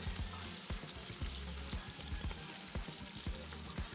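Steady, loud sizzling and crackling of food deep frying in hot oil, with small pops throughout and no talking.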